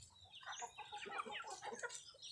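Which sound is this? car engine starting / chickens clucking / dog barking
chickens clucking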